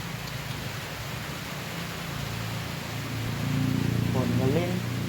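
Steady rain falls in a rural rice-farming area, a continuous close hiss with no gaps, while a voice talks over it and the noise swells slightly near the end.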